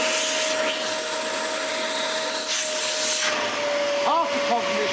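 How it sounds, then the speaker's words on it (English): A Dyson DC40 Mk1 vacuum cleaner motor runs continuously, a loud close-up whine and airflow roar with a steady tone that dips slightly in pitch partway through, while a voice speaks over it. "There's this Dyson DC40 Mk1, so it's actually going to be more motory than the Mark II."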